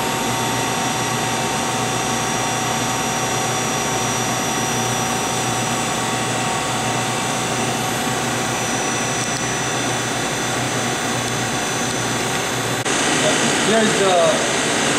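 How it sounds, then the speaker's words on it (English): Vacuum pumps of an Oxford Plasmalab 100 reactive ion etch system run with a steady mechanical drone and high-pitched whine, close and continuous, with a slight rise in level near the end. "this is the main pump for the main chamber and main turbo casting"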